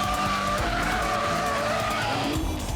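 Nissan GT-R supercar driven hard in race mode, its engine roaring loud and steady with tyres squealing and skidding through the run, no talk over it.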